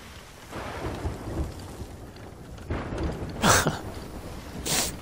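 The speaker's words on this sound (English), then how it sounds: "I think we're heading towards a storm." Rain falls steadily while bursts of thunder crackle and rumble, with a couple of sharp loud cracks, in a stormy sea setting in the pirate video game Sea of Thieves.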